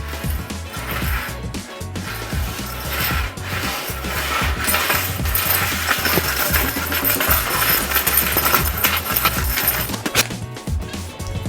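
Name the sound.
keys dragged across painted IKEA furniture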